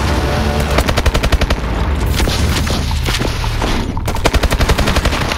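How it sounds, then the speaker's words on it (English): Rapid automatic gunfire in the shooter game Call of Duty: Advanced Warfare, heard as dense loud bursts of shots with booming impacts, continuous and close across the whole stretch with no talk. "I shot him first, bruv!"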